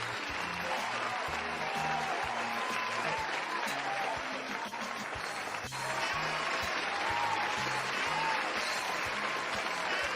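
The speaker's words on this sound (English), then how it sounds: "I'm keeping that clapping going for all you people, for everybody" Continuous crowd applause runs steadily throughout, loud and even, with a pulsing low rhythmic beat underneath.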